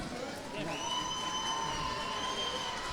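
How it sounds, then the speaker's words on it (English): A boxing fight-night crowd cheers and applauds steadily, a dense wash of noise with whoops and a sustained shout, with talk mixed in. "let's give these boxers one more big round of applause"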